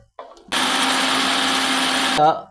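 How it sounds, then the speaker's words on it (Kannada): A mixer grinder grinds roasted masala for okra sambar: a brief clatter, then a loud, steady high-pitched whirring motor for about two seconds that winds down with a sputtering stop. "ಈಗ ಇದನ್ನು ಮಿಕ್ಸಿಯಲ್ಲಿ ನಾವು ಪುಡಿ ಮಾಡ್ಕೋಬೇಕು"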